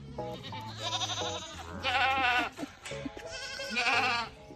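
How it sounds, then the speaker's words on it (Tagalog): A goat on a farm bleating in several loud, wavering calls close by, with short pauses between them. "Is that a goat?"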